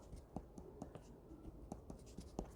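An equation written by hand on paper during a middle-school math lesson on simultaneous equations: faint, close scratching pen strokes in short irregular bursts, quiet and alone with no talk.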